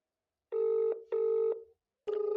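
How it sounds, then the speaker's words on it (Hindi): An outgoing phone call rings back while waiting for an answer: two long electronic ringing tones with a short gap, then a third starting, clean and alone with no talking. "फोन जा रहा है, फोन उठा रहे हैं"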